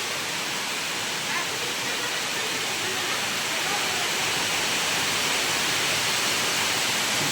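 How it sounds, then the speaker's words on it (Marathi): Steady rushing water gushes continuously out of a farm field after heavy rain, a dense broadband roar that stays loud and unbroken throughout, with no voices on top. "रपरपत पाणी निघत आहे शेतातून"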